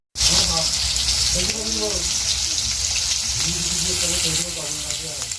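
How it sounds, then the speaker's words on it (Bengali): Fish pieces fry in hot oil in a pan, three or four at a time, a loud continuous sizzle and hiss throughout while a voice talks intermittently over it. "মাছ দিলে এক ভাজাই হবে না ভালো করে এই জন্য তিন চার পিস করে আমি ভেজে নিই"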